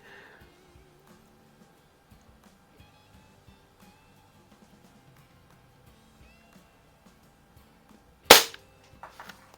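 A single sharp shot from a Crosman pump-up air rifle fitted with a Buck Rail suppressor cracks near the end after quiet handling, followed by a few faint clatters.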